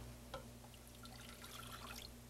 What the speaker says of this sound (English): to my butter I'm going to add a cup of water.